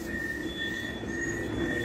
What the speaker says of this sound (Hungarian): hogy menjen el a metrós, akkor utána rá tudunk látni az egész képre